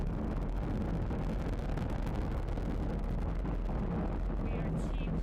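A SpaceX Falcon 9 rocket with nine Merlin engines on its first stage roars during a crewed launch as a dense, continuous rumble that stays steady and loud, while a commentator talks over it.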